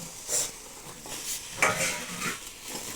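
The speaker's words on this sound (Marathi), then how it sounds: "आता हे चिकन टाकून घेत आहे याला मी हळद आणि मीठ लावून घेतलेलं आहे आता याच्यामध्ये टाकून घेत आहे" Turmeric- and salt-rubbed chicken goes into a hot pot over a wood-fired stove, giving a faint, soft sizzle with quiet stirring and scraping against the pot in a few short bursts.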